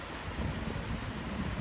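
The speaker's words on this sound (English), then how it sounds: "So it's really raining now." Heavy rain pours steadily outdoors, a dense, continuous hiss with no voices.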